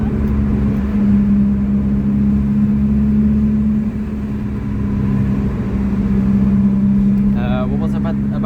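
A factory-supercharged Lotus Elise engine drones loudly inside a tunnel, holding a steady throaty rumble that dips briefly and swells again, with a whining rise near the end.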